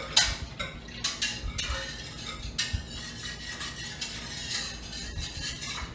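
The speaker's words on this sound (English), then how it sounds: "I'm just going to grab my whisk here. I'm going to give it a quick stir" A whisk gives a quick stir to milk in a pot for mozzarella, producing a series of short metallic scrapes and clinks against the pot in irregular bursts, fairly close and quiet.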